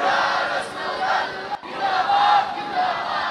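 Sermon crowd loudly chanting the Bengali-Islamic slogans Naraye Takbir and Naraye Risalat in unison, a dense roaring wall of voices with a brief dip midway before swelling again.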